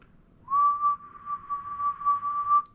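A person whistles one long, steady single tone, close and clear for about two seconds, imitating a whistle heard outdoors in a yard, with no talking alongside.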